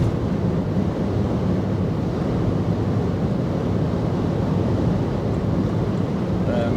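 Steady broadband wind roar buffeting a vehicle pushing into a headwind at speed on the Autobahn, continuous and fairly loud throughout with no speech.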